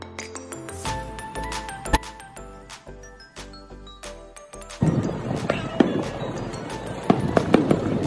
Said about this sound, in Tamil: சம்மர் ஃபயர் ஒர்க்ஸ் போடுறாங்க சிகாகோ பியரில்